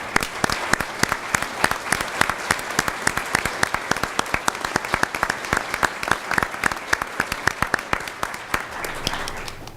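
A room of people applaud workforce development staff who have stood to be thanked, sharp individual hand claps ringing out close and steady for several seconds, thinning slightly toward the end.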